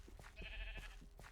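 Sheep in the video game Minecraft bleat in a short, faint burst of a few wavering calls, heard alone without talk.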